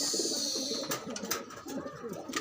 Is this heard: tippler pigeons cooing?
yes